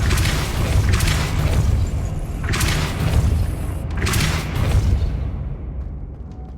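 Depulso spell effect in Hogwarts Legacy: a loud, continuous booming rumble with low thuds and bursts of hiss that cuts off abruptly near the end.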